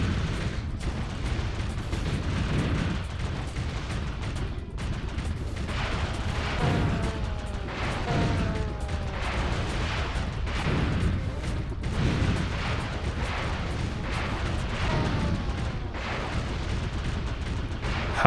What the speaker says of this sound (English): the explosion for these helicopters almost sounds like the reverb fart sound effect